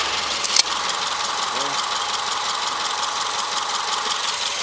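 A 2007 Subaru Impreza with a 2.0-litre EJ20 engine running at idle, a steady close mechanical hum with fine ticking, briefly joined by a short clank near the start.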